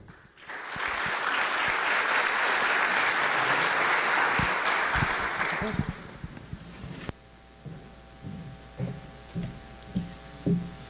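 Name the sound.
audience applause at a conference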